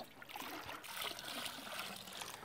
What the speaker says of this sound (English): put about 2 to 3 inches of water in it